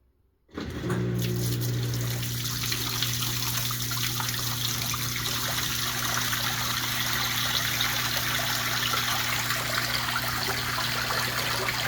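Washing machine drain water pours steadily through a homemade lint catcher, starting abruptly after a brief quiet and continuing as a loud, even rush of flowing water with a low steady hum beneath.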